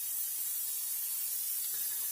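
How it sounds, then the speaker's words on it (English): Alcohol sprayed from a spray bottle onto paper in an alcohol transfer art technique, a soft steady hiss with a faint burst near the end, quiet and alone. "when you spray it, the color removes from the paper"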